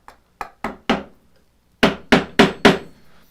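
A mallet pounds a chisel into wood while cutting a dovetail joint, two close groups of four sharp strikes each, loud and crisp, separated by a short pause.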